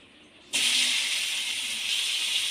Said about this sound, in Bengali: এবার ওই তেলের মধ্যে কাঁকরোলগুলো ভেজে নেব